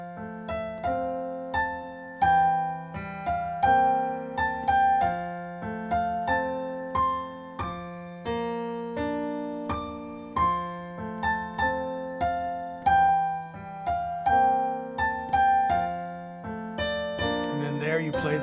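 Piano playing broken chords, the notes of each chord rolled out one after another in a steady, flowing rhythm, close and clear with no voices.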